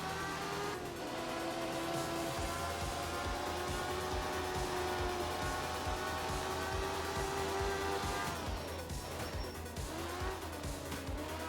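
Truck in a driving video game, its engine humming steadily with shifts in pitch and squealing, skidding tires, loud and continuous.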